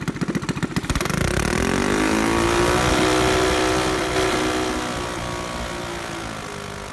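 Modified 212cc Predator engine on a dyno with its muffler removed, first popping in rapid pulses, then revving up into a loud, sustained raw buzzing roar that holds steady and eases slightly toward the end, close and unaccompanied by speech.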